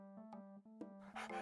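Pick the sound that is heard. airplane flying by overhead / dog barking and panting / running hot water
dog barking and panting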